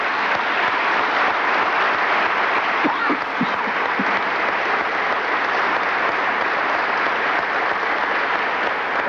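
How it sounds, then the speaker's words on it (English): Steady, dense applause from an audience at a Hall of Fame induction ceremony in Chicago, loud and unbroken throughout, with a few faint voices under the clapping. "And let's give Larry another round of applause."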